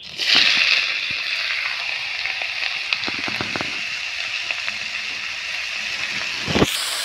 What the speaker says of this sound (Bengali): তেলটা গরম হয়ে গেছে, মাশরুমটাকে দিয়ে দিচ্ছি কড়াতে